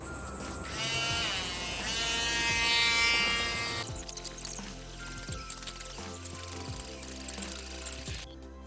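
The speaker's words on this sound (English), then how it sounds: "Now we have to make holes on this cover." A drill bores holes in the cover of an 8x8x8 LED cube for an Arduino 74HC595 project. A steady high whine runs for about four seconds, then gives way to close, uneven clicking and rattling.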